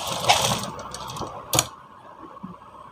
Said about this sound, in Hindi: इस तरह से सिलाई लगाते हुए चले जाएंगे। सिलाई एकदम आराम से लगाएंगे